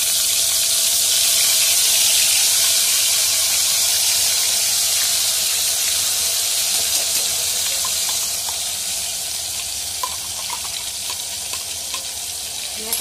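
Loud, continuous hiss and spatter of ground masala paste hitting hot oil on a low gas flame while making masale bhat, the sizzle strong at first and easing slightly toward the end, with no talk.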